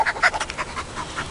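A dog, a Heeler, pants rapidly and close up in a short burst of quick, breathy rhythmic huffs.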